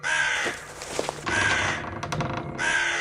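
Loud, close crow caws ring out three times in a row, harsh, drawn-out calls separated by short pauses, with a faint rustle between them and no talking.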